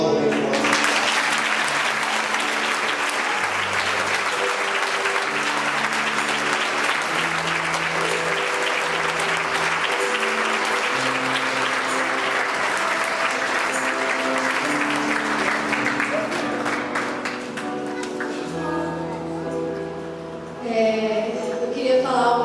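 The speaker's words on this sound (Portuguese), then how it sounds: "aplauda bem forte" A congregation claps loudly and continuously through a church service for about twenty seconds over a sustained musical backdrop, the clapping gradually thinning out near the end.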